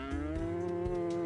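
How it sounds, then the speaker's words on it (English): A cow in the Harvest Moon Magical Melody video game lets out one long, steady, tonal moo while being milked, clear and up close with no talking. "This is gonna milk Muffin the cow."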